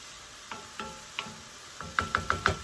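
Onion cooking in a lidded skillet for an American-style goulash, with a faint low sizzle under a series of light clicking stirring taps that grow quicker and more regular toward the end, close and quiet.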